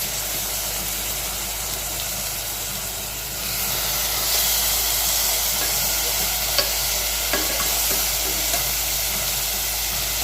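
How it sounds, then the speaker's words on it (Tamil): Beef sizzling and hissing steadily in a hot pan as it is stir-fried for a Tamil-style beef fry, the frying noise growing louder partway through, with faint scrapes from stirring and no talk. "இதையும் சேர்த்து நல்லா வதக்கி வச்சுக்கலாம்"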